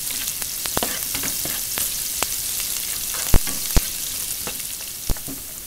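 Minced garlic sizzling in hot oil while frying for totsong bangus, a dense, even hiss broken by a few sharp pops and light utensil taps.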